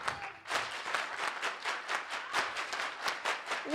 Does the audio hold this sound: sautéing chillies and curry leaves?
no